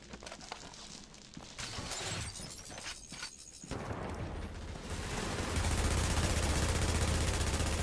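Gunfire in The Division video game: dense crackling bursts and sharp shattering impacts fill the first half, then give way to a steady, louder roar of continuous noise with no talk.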